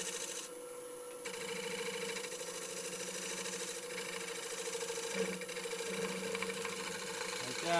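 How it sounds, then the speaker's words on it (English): A woodturning gouge skims lightly across a spinning wooden surface on a lathe, producing a steady buzzing rasp over the motor's hum. The sound is continuous and close, and a voice speaks faintly underneath. "And just lining the gouge across the surface now, very lightly."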